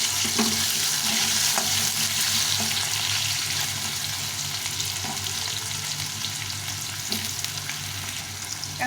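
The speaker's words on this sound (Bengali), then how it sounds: "লাল লাল করে আগে আলুটা ভেজে নেব" Chunks of potato sizzling steadily in hot oil for a Bengali fish curry meal, a continuous close crackle with occasional stirring clinks and scrapes, no voices.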